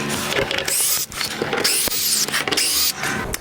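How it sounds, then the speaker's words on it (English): A power drill whirs in short bursts with rising and falling motor pitch, driving out a screw from a wall-mounted garage storage shelf bracket, close and fairly loud with brief pauses between spins. "I can unscrew this"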